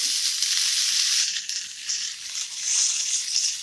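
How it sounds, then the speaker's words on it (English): Bacon frying fat side down in a pan gives a steady, close, loud sizzle that swells and eases a little but never stops, with no voices over it. "Hear that noise? That sizzling noise?"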